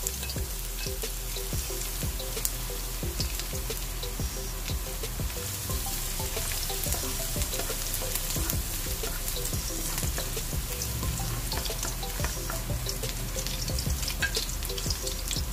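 Garlic sizzles steadily in hot oil in a pan for pork soup, a continuous close frying crackle with occasional stirring scrapes and no talk.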